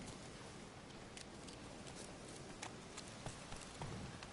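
Horse hooves in The Witcher 3 video game, a steady walking clip-clop of soft, irregular thuds under a constant wash of background ambience, close but fairly quiet with no talking.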